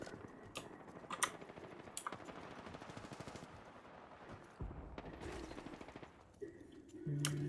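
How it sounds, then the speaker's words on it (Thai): Gunfire crackles through an Apex Legends match as repeated sharp shots and rapid automatic bursts, some close and loud, others more distant, with mechanical clicks between them. "อุ้ย ยิงกันแล้ว ยิงกันแล้ว"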